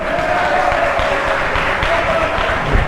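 Steady applause from an audience at a quiz quarter-final, a dense wash of clapping that holds at an even level throughout.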